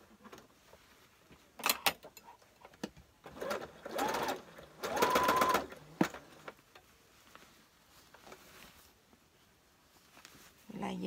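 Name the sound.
sewing machine stitching a shirt's armpit seam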